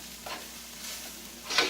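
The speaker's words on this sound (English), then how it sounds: "now what we're doing is kind of frying it, kind of toasting it" Cooked rice fries and toasts in a little oil or butter, giving a soft, steady sizzle with faint stirring scrapes and a louder scrape near the end.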